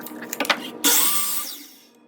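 A power saw cuts a wood board for a bluebird birdhouse in one close, loud burst that starts abruptly after a few light knocks and then winds down over about a second.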